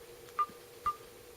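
Two short electronic tone beeps from a Samsung Galaxy phone's ringtone, spaced about half a second apart, clear and close over a faint steady hum.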